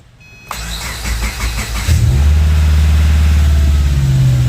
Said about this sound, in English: Now we're gonna see if the car starts.